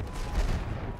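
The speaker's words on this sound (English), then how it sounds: "Machine gun over there!" Machine gun fire in Battlefield 1, a dense sustained rattle of rapid shots lasting about a second, loud and close with a low rumbling body.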